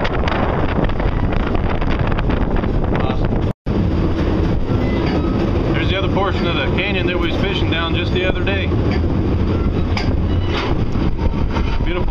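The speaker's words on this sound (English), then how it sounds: "Gotta wait for another train to come by." A train rolls past in Copper Canyon with a steady, continuous clatter and rumble, wind buffeting the microphone and a voice speaking over it.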